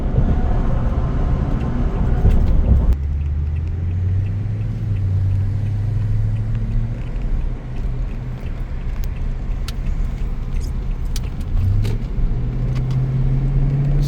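2019 Toyota Tundra V8 on a night drive, a steady loud low engine drone from inside the cab with gentle rises and falls in pitch as the revs change, no talking.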